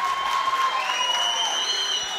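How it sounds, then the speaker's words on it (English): Crowd applause at a Muay Thai fight, dense sustained clapping filling the space for a couple of seconds with some scattered cheering, steady and fairly loud throughout. "please keep your applause going"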